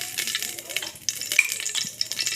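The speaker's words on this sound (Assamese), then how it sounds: "মই চাউলখিনি ফাৰ্ষ্ট ঘিউতে ভাজিম" Rice fries and sizzles in plenty of ghee inside a hot pressure cooker, a close crackling hiss broken by stirring scrapes.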